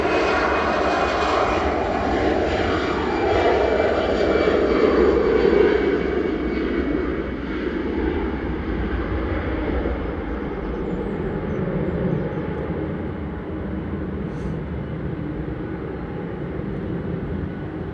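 An EasyJet airliner departing runway 05 left at Manchester Airport for Basel, its jet engines roaring loud and steady as it accelerates, then the roar slowly fading as it climbs away.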